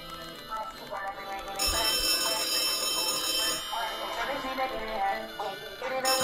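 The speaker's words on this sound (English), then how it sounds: "Just pick up the phone, cuz." A telephone in the video game Rec Room rings with a bright, repeated electronic trill that carries loudly through the clip.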